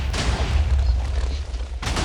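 TNT cannon firing in Minecraft, a loud continuous rumbling barrage of overlapping booms lasting about two seconds with a fresh blast at the end.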